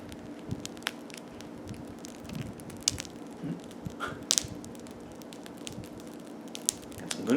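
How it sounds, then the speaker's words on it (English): A freshly baked homemade sourdough loaf crackles as it cools, with scattered faint ticks and small pops spread irregularly over a steady low hum, close by and with no talking. "Second one, you can hear it's crackling now."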